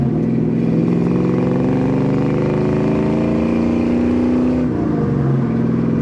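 A 1965 Chevrolet El Camino driving through a U-turn, a steady loud engine drone with a slowly rising tone that dips as the car eases off, heard from inside without talk.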